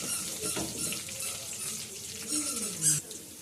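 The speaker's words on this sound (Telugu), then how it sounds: "అల్లం వెల్లుల్లి రెబ్బలు వేసుకుందాం కొంచెం ఫ్రై కావాలి ఇంకా కొంచెము వేగాలి" Ginger and garlic cloves frying in a pan for a beetroot dish, a steady close sizzle with light stirring and scraping, moderately loud and without speech.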